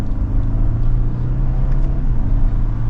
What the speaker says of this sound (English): With it still in sport mode, we'll do another mild acceleration.